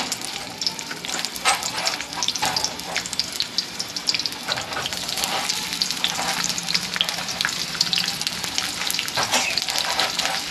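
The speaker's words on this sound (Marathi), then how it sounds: "मी कांदे टाकून घेतले आहेत. तर असे फ्राय करून घ्यायचे आहेत" Onions and bay leaf fry in a pan with a dense, continuous sizzle, punctuated by close scraping and clattering as they are stirred.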